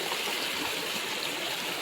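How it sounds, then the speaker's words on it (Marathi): A river running through dense forest gives a steady, close rush of flowing water, broad and continuous for the whole stretch with no voices. "ही नदी आहे, पूर्ण जंगल."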